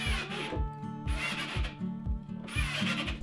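Deck screws, 1 5/8-inch, driven into fence board pieces for a package drop box base, with a drill whirring in three close bursts over rhythmic thumping and rubbing of wood.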